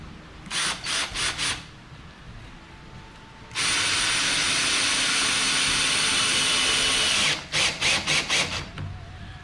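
Power drill driving a screw into a wooden post while building a haunted walkthrough: a few short bursts, then one long steady whine of about four seconds, then another run of quick bursts, loud and close.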